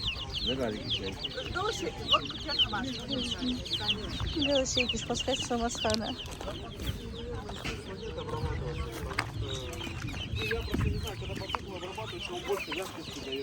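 Chickens cluck at a busy market stall selling home-raised chicks alongside turkeys and broilers, steady clucking and chirping mixed into constant crowd chatter and nearby conversation.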